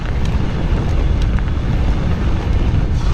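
A headwind buffets the microphone of a rider on a Commencal Meta Power SX e-bike with a Bosch motor, producing a steady, loud, low rumbling roar that continues without a break.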